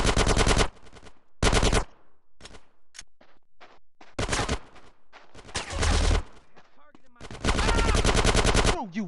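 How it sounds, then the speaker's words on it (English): Loud bursts of automatic gunfire in GTA San Andreas gameplay, several sustained volleys alternating with rapid single shots, close and dominant, with a brief game voice in between. "Get some suppressing fire in there!"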